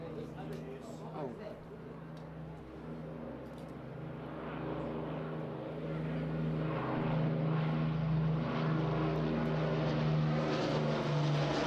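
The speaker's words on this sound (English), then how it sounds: "please welcome the Battle of Britain Memorial Flight Lancaster" A Battle of Britain Memorial Flight Avro Lancaster, a WWII RAF four-engine bomber, flies at the Eastbourne International Airshow 2024. Its deep propeller drone grows steadily louder as it approaches, with an announcer talking over it.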